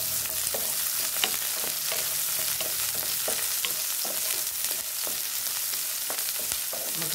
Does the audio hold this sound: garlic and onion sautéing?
yes